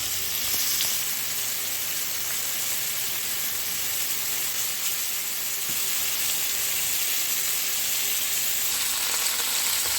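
Stew beef browning in a pan, a loud, steady close sizzle that hisses on unbroken from start to finish with faint crackles, no voices.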